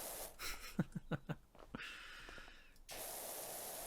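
A pressure washer sprays in PowerWash Simulator while cleaning a gnome-themed level. A few short bursts come first, then a steady, close, hissing jet of water runs to the end.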